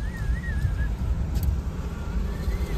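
A car reverses, giving a low, steady engine hum close by with a faint high tone above it.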